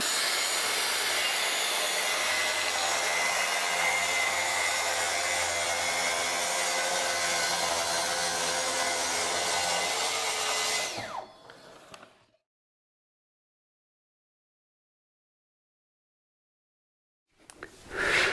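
A circular saw rips wood along the grain at speed 3, a loud steady whine with broadband cutting noise for about eleven seconds before stopping abruptly; after a silence the saw briefly starts up again at the end.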